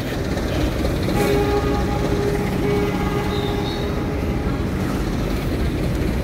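Train at Surabaya Pasar Turi railway station, with a loud, steady rumble of rail cars filling the platform and a faint horn-like tone briefly above it.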